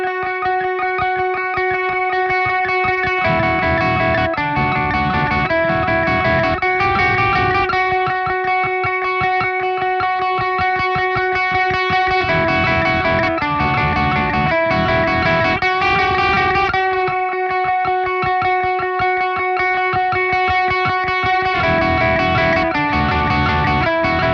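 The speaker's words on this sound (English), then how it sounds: "the track is going to open up with a really fun textural type of guitar part" Dissonant, textural electric guitar in drop D plays the opening part of a song, heavy with effects, chorus and echo. It holds steady droning tones broken by bursts of dense strumming, loud and alone.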